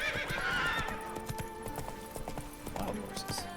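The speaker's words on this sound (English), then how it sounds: "Wild horses." Wild horses in The Witcher 3 whinny and clatter with hoofbeats, a neigh opening the passage followed by scattered galloping clops mixed with game music tones.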